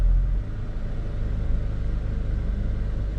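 Cold-started 2011 Saab 9-5 engine idling, a steady low rumble held close and even, with no talking.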